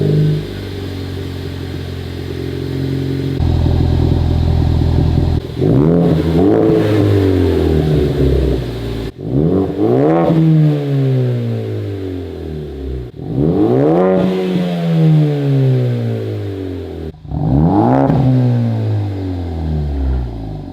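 Ford Focus ST engine with a loud exhaust: a steady idle, then four sharp throttle blips that each rise and fall away, ending in a popping, crackling exhaust burble.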